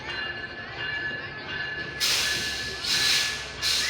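The locomotive of the Panchagarh Express idles at a station with a low rumble and a thin whine, then lets off three loud bursts of air hiss in quick succession.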